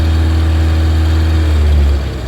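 The engine of a vintage car with an old amp meter and a cork-float fuel gauge runs loud and close. It holds a steady low drone, then the revs drop off near the end.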